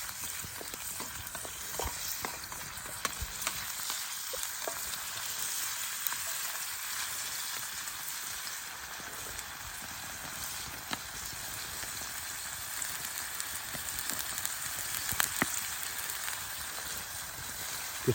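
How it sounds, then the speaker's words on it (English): Oyster mushrooms frying in olive oil in a pan over an outdoor camp cooking fire, with a constant crackling sizzle and sparse sharp pops running steadily throughout, close up with no one speaking. "We're just going to sprinkle these mushrooms into the pan."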